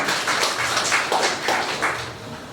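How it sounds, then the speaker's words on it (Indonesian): Guests at a wedding ceremony applaud the bride and groom, a steady wash of many hands clapping together at close range, with no voices over it. "Berikan tepuk tangan buat mereka berdua, saudara."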